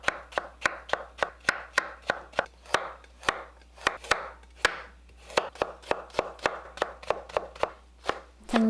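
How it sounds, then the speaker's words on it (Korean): A knife chops rapidly through potatoes and carrots on a cutting board, cutting them into thin strips for a green garlic leaf potato pancake, with steady close, crisp knocks in quick runs and brief pauses between. "감자와 당근을 채 썰어 준비합니다."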